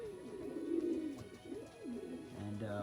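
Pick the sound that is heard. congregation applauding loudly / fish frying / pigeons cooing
pigeons cooing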